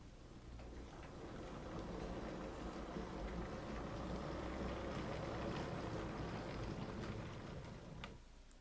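A repaired 1929 Sierra Railway model locomotive runs steadily after a gear replacement, giving a continuous whirring, buzzing mechanical hum that holds even for several seconds and then cuts off abruptly.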